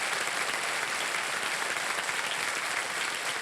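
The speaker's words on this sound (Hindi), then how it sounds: "एक बार फिर ताली बज जाए आपके लिए" Studio audience on the KBC quiz show applauding steadily, a dense, even wash of clapping that holds at the same level throughout with no voices on top.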